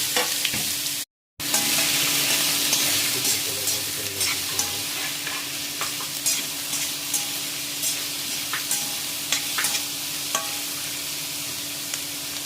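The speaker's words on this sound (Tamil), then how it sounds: "நான்கு கிராம் வெங்காயம் அரிஞ்சு வச்சுருக்கிறேன். 4 பச்சை மிளகாய் அரிஞ்சு வச்சுருக்கேன். அதையும் அதிலே போட்டு வதக்குவோம்." Chopped onions and green chilies sautéing in a pan for prawn thokku sizzle steadily and loudly, with regular light spoon taps and scrapes as they are stirred, after a brief cut near the start.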